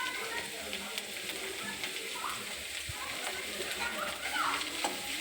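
Green chilli and chopped ginger frying in oil in a pan with cabbage, a steady hissing sizzle with faint occasional stirring taps, close and even throughout.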